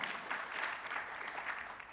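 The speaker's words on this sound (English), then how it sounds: "We do have to clap for Newark." An audience at a fireside chat event applauds in a soft, even patter of many hands, heard from a distance and fairly faint, steady throughout without talk.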